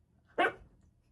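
A single short dog bark, close and fairly loud, standing alone against a quiet indoor background.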